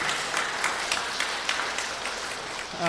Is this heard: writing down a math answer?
no